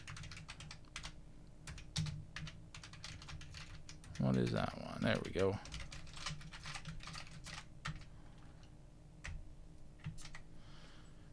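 Someone types on the keyboard of a Columbia Data Products VP portable computer while testing its keys. Sharp, irregular key clicks come close and clear throughout, with a brief spoken remark midway.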